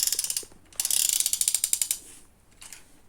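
A vintage 1970s Sindy doll's mechanism clicks in rapid ratcheting bursts, a dense run of small mechanical ticks with a short pause between, close and quiet with no talk.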